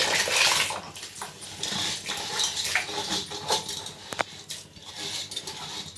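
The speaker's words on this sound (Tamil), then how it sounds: "இப்போ தண்ணி கொதிக்குதுங்க இதில் நான் கழுவி வச்ச நொய்யை" Washed broken ragi grits are tipped into a pot of boiling water in a home kitchen, a rushing bubbling wash of liquid with metallic clinks of a utensil against the pot.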